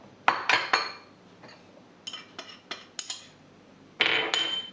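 A spoon stirs plums with sugar and vanilla in a bowl, clinking against the sides in quick clustered bursts with short silent gaps.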